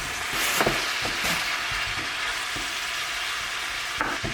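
Capsicum sizzles and fries in a hot pan for a breakfast burrito bowl, with steady crackling and a few sharp scraping stirs over continuous close frying.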